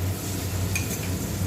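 Onion and tomato fry in a pan with a steady, close sizzle and a brief clink of a utensil partway through, no voices.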